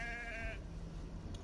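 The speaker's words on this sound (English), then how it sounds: "We can pet the sheep." A sheep in the Assassin's Creed III video game lets out one clear, close bleat with a wavering tone, followed by quieter game ambience.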